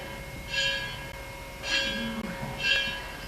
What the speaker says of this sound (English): It's not dinner time, but he's ringing the bell.